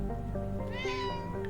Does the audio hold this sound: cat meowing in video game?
yes